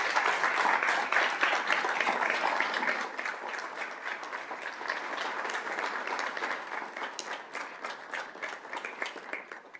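An audience applauds student musicians at a school district governing board meeting, with dense, steady clapping that stays strong for several seconds before slowly thinning out near the end.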